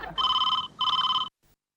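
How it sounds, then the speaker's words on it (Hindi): A telephone bell rings in two loud electronic bursts with a short gap between them, in a sitcom family home, then stops; no talk is heard during the rings. "फोन उठाइए फोन।"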